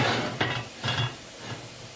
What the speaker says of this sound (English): Cooking all-purpose flour with mushroom for 2 minutes.